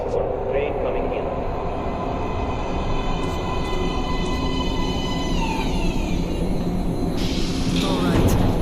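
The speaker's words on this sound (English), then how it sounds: "Please step away from the edge of the platform. Train coming in." A metro train pulls into a station platform in the game Metro Last Light, a steady low rumble and rolling clatter with squealing tones building toward the end, with voices talking over it.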